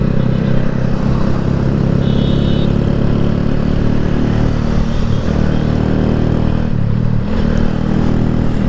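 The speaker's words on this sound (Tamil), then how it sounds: "நம்மளோட அண்ணன் பயங்கரமாக ஓட்டி போகிறாரு R15." A Bajaj R15 125 cc motorcycle ridden hard and fast, its exhaust a steady loud roar with a constant engine drone throughout, slight variations suggesting throttle changes, no voices.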